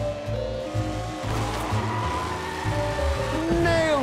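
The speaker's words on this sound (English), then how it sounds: "Now to drift whilst steering your kart" Kart drifting in the PS3 game LittleBigPlanet Karting: a steady engine drone with a rising whine and skidding tyre tones, continuous and fairly loud over game music.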